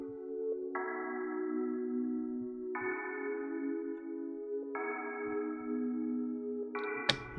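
Synth music passed through the iZotope Iris 2 plugin with chorus and a light reverb, sustained layered tones changing chord every couple of seconds, even and moderately loud, ending on a brighter swell; no talking.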